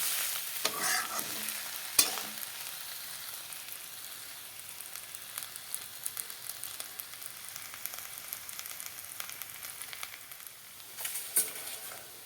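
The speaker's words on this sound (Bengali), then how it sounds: "বন্ধুরা দেখো আমার উচ্ছে আলু ভাজা হয়ে গেল" Sliced bitter gourd and potato frying in a small amount of oil in a pan. A soft, continuous crackle and sizzle is heard, broken by a few sharp clinks and scrapes as the pieces are stirred.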